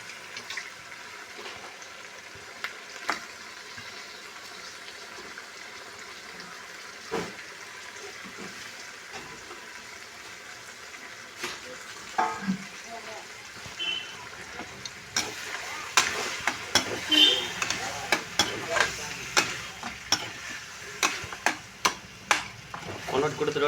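Meat goes into a pan of sautéed onions and tomatoes and fries, a soft sizzle that builds into louder bursts of crackling and stirring scrapes toward the end, nearby and without talk.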